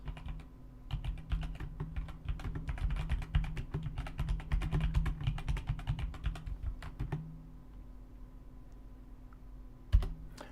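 Rapid clicking keystrokes on a mechanical keyboard, a dense run of sharp clacks for about seven seconds, then a pause and a single louder click near the end, fairly close.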